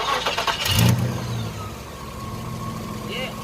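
A 1995 Nissan Pickup with a 3.0L engine idles at a low, steady rumble after a PCV valve repair, close to the mic, with a brief rise in engine noise near the start.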